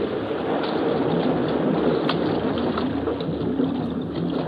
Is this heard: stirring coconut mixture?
no